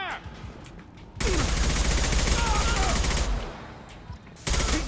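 Sustained automatic gunfire from the video game Mass Effect 2 fills a roughly three-second burst, with quieter combat sounds before and after and a sharp restart at the end.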